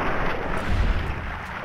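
Shotgun fire in Fallout: New Vegas in the Mojave, a single heavy booming blast with a rumbling tail, loud and close.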